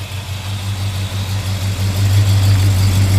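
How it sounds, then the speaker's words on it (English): 1968 Oldsmobile Cutlass S convertible with a small V8 and chrome exhaust tips, idling with a steady low, throbbing exhaust rumble, loud and close, and no voices. "Nice little rumble out the back, nothing too obnoxious"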